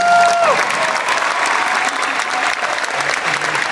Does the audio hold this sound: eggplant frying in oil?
no